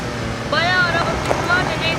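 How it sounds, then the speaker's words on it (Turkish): Car engine sound in the Roblox game Car Crushers 2: a steady whining drone that climbs in pitch as it revs, layered over a rushing, wind-like background. "niye her oyunda araba sesleri çıkıyor arkadaşlar ya?"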